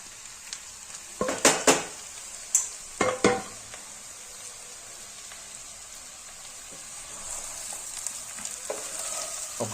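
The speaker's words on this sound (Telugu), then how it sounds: "ఆనియన్స్ అన్నీ ఫ్రై అయిన తర్వాత ఇప్పుడు మనం మ్యారినేట్ చేసుకున్న చికెన్" Marinated country chicken hits hot oil with fried onions in a pan, giving a few loud sharp sizzling bursts and scraping stirs early, then a quieter steady frying hiss.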